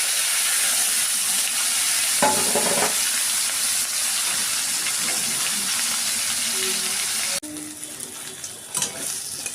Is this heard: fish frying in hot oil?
yes